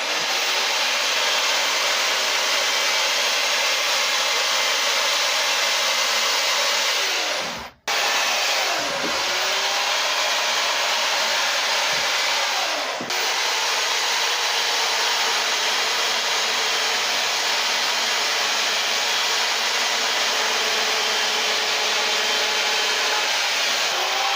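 A chainsaw carves a face into a block of wood, cutting in the lip line. Its engine whines loud and steady throughout, dipping briefly for a moment before roaring back.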